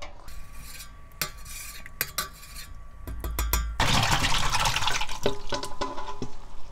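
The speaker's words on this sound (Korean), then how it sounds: "물을 따라 버리고 또 씻어" Peeled taro for a beef soup gets rinsed in a metal bowl, with clinking utensils and knocks against the pot, then a gush of water pouring out and sloshing, close and fairly loud.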